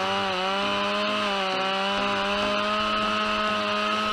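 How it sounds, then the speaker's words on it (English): A Stihl MS-881 chainsaw runs steadily and loudly close by in the woods, its high whining engine drone holding constant as it cuts through wood. "is holding a powerful steel MS-881 saw in her hand, ready for a day of work in the woods."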